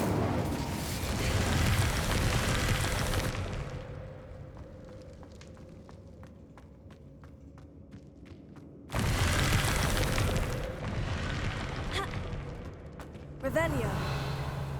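An Incendio fire spell in Hogwarts Legacy bursts out in whooshing, roaring flame blasts, two loud surges separated by a quieter stretch of small clicks, with game voices and effects around it.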